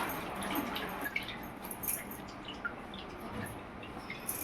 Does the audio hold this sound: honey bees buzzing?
no